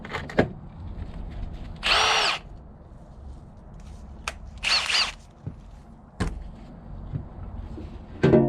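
A power tool, most likely a drill, drives four half-inch headed fasteners into a panel on an Altec valve section, two short loud whirring bursts with faint clatter and knocks between them, no voices.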